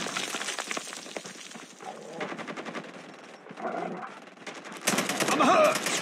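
Rapid automatic gunfire from a Call of Duty Mobile multiplayer match crackles in dense bursts and rattling volleys, easing briefly before a louder final barrage near the end, with no voices.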